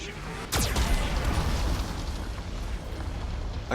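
A Geth cannon fires in the Mass Effect 2 video game, a sharp sweeping blast that bursts into a loud sustained rumbling explosion, with a faint voice underneath.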